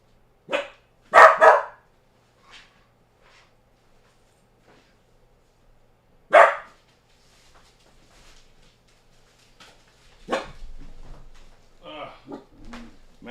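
A dog barks indoors: a sharp bark, a quick double bark, a lone later bark, then another, with faint whimpers and quiet gaps between and a person talking near the end.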